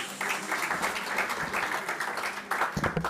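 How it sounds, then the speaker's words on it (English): Dinner guests at a university welcome event for a vice-chancellor applaud steadily, with a moderate crowd of clapping hands continuing for a few seconds, and a brief louder burst near the end. "Let's give him another round of applause."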